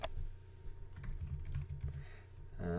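Rapid clicking of keys on a computer keyboard as a recommendation is typed into a real estate agent's website form, steady close-up typing with a brief louder burst near the end.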